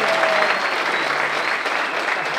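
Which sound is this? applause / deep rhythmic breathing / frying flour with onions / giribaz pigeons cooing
applause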